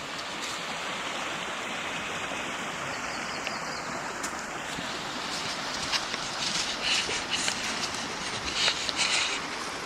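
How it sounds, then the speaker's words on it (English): Creek water rushes steadily in Skagit Valley, a broad continuous babble close by, with faint bird chirps high above it near the end. "Listening to the water run"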